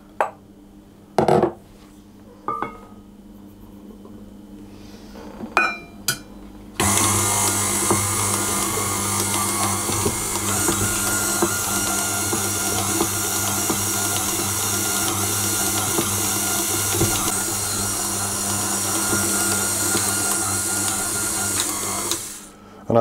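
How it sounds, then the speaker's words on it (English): Stand mixer kneading bread dough for rosette or Kaiser rolls: after a few clinks and knocks, the motor starts abruptly and runs as a steady, loud whirring hum with a faint rhythmic churn. "I'm going to knead this for 3 or 4 minutes in the stand mixer"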